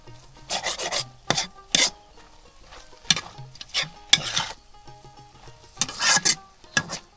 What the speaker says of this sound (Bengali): চুলা কিন্তু পাট শাক রান্না করতেছি